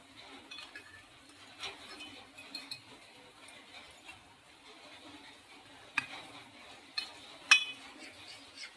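A spoon stirs custard powder pudding mixture in a pot, giving soft scraping and light clinks that grow into a few sharper taps near the end, with no talk.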